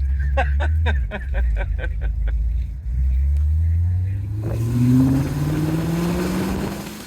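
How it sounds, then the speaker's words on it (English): A 1955 Chevy 210 gasser with a 350 V8 engine revs close by, its exhaust rumbling loud and deep before rising in pitch as it pulls away, with a burst of talk and clatter near the start. "Man, that exhaust sounds so good."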